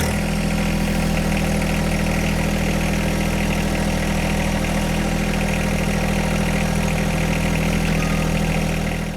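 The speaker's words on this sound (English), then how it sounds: "We'll go ahead and restart the tractor just to make sure we've got full loader functionality" A John Deere 1025R compact tractor engine idles at a steady, even rumble, close and loud throughout with no voices.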